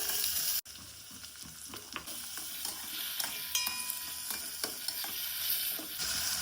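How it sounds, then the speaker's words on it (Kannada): Ingredients for moong dal khichdi, including dried leaves, fry and sizzle in a pan while being stirred, with steady close frying noise and repeated scraping strokes and no talking. "ಇದನ್ನೆಲ್ಲ ಹಾಕಿ ಫ್ರೈ ಮಾಡ್ಕೋಬೇಕು."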